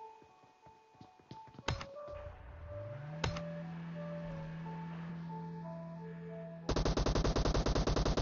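Gunfire rings out during a video game tournament match: a few sharp isolated shots and soft tones give way to a loud, rapid burst of automatic fire in an even, fast rhythm at the end.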